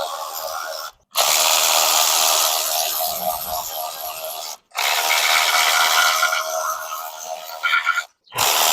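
A power tool loosens the 10mm side cover bolts on a Coleman B200R engine, whirring loudly in three long bursts separated by brief pauses, close up, with no talk.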